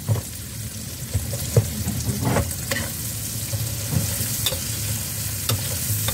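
Onion sautéing in a pan for pork adobo, a constant close sizzle broken by sharp scrapes and taps of stirring, no talk.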